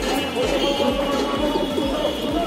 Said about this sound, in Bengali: এটা মতিওয়ালা ব্রিড, ভেরি নাইস কবুতর